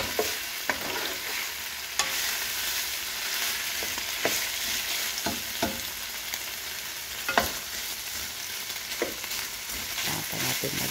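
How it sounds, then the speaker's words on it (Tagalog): Beef steak for bistek sizzling and browning in a hot pan, a steady loud frying hiss with scattered utensil scrapes and taps as the meat is stirred, no voices. "Nagluluto ng ating beef steak. Ayan. Nagbo-brown na siya."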